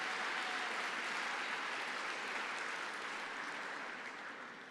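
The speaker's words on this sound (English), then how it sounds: "you could applaud them, give them a little love" An award-ceremony audience applauds winners with steady, dense clapping that fills the room at moderate distance, slowly tapering off toward the end.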